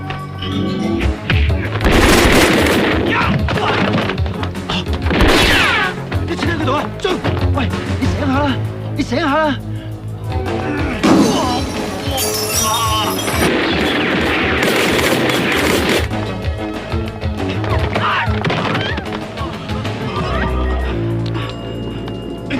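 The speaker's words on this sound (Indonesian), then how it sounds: "tiba-tiba dihadang sekelompok orang yang langsung menembaki mereka, dan aksi baku tembak pun tak terhindarkan lagi" Gunfire shootout in an action film, loud bursts and booming shots crashing repeatedly over a dense, continuous mix of score and effects, with voices shouting at moments throughout.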